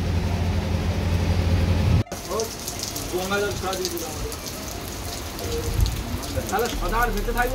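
Heavy evening rain pours steadily outside a room in Bakkhali, a dense, continuous hiss that continues after a brief cut, with faint voices and other sounds scattered over it.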